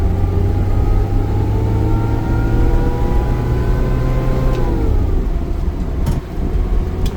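Nissan Atlas diesel truck engine droning steadily in fourth gear at highway speed, loud and close with a continuous low hum and whine, easing off slightly near the end.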